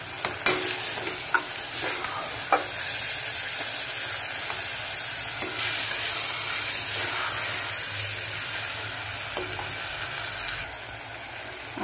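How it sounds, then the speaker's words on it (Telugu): Ginger garlic paste frying in a pan for a mutton masala curry, a continuous close sizzle and hiss with repeated scraping stirs and a few sharp clicks of a spoon against the pan. "అల్లం వెల్లుల్లి పేస్ట్ అయితే బాగా వేగింది కదండి."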